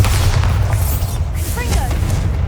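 A Bombarda spell explosion in Hogwarts Legacy hits as a loud, sustained low rumbling boom with crackling debris and brief whooshing effects over a dense game soundscape.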